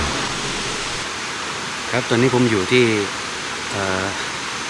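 Khao Chamao waterfall in Rayong, Thailand, roars as a steady, broad rush of falling water, constant in the background while someone speaks over it.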